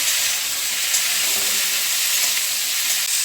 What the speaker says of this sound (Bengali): আলু দিয়ে দিচ্ছি এখানে আছে মিষ্টি কুমড়ো দিয়ে দিচ্ছি ভালো করে নেড়ে নেব